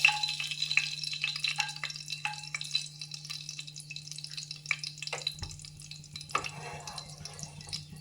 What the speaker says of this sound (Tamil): எண்ணெய் காஞ்சிடுச்சு பட்டை லவங்கம் ஏலக்காய்